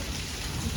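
Monsoon rain pours steadily in Mehsana, a dense, even hiss of drops hitting surfaces, loud and continuous with no voices.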